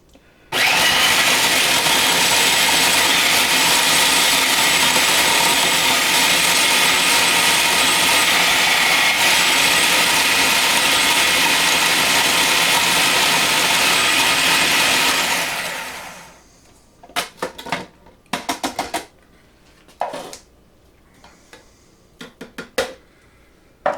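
A blender running on high grinds dried bread into crumbs, a loud steady motor roar lasting about fifteen seconds before spinning down, followed by scattered clinks and knocks of the jar and lid.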